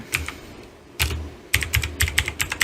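Computer keyboard keys clatter as Python code is typed, a few isolated taps followed by a faster, irregular run of close, crisp keystrokes with no talking.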